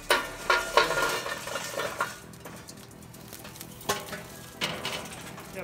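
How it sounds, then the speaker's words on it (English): Hot charcoal coals tumble into a charcoal grill with clattering, rattling impacts in a few loud bursts, followed by quieter scraping and shifting as the coals settle, close and without any talking. "Got the coals over here heating up. I'm gonna dump some down in there."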